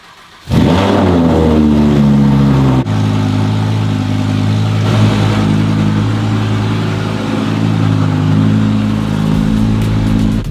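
A Ferrari sports car engine fires up and revs hard, then settles into a loud, deep, steady rumble.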